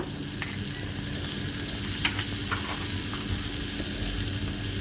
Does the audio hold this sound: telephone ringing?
no